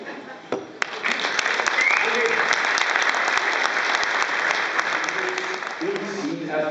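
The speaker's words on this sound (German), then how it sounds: "einen Applaus für Markus Söder" Dense, loud crowd applause for Markus Söder at the Demokrator 2014 event, filling the room steadily from the first second to the end, with voices talking over it.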